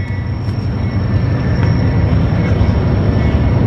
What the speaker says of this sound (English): Oh, cool, we got a train coming.